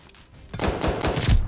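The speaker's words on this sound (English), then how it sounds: "They got 2 of us just wall banging" Video game gunfire punching through walls, a muffled burst of shots and thuds that starts quiet and then grows loud and heavy, with several close impacts.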